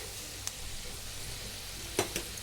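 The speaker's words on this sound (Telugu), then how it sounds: "కొంచెం ఇవి రెండు మిక్స్ చేయాలి, మంచిగా మిక్స్ చేయాలండి." Mustard and fenugreek powder with salt are stirred in a pan for chicken pickle: a faint, steady low sizzle with a couple of soft scraping stirs near the end, and no speech.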